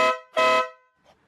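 A Denali Soundbomb horn fitted to a BMW 1200 GSA motorcycle gives two loud, close honks, a short blast then a longer one, followed by a faint echo.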